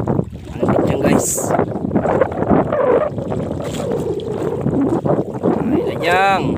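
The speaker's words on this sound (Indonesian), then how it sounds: "Ini badai guys, gelap di sana guys. Angin kencang guys." Strong storm wind buffeting a small fishing boat at sea, roaring gusts and microphone rumble beneath someone talking loudly throughout, with a brief high chirping near the end.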